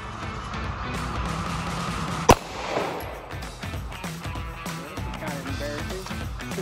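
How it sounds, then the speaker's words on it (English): A single sharp gunshot cracks at a target during competitive shooting practice, loud and close, standing out against a murmuring outdoor background. "whenever I say threat, I want you to shoot the target"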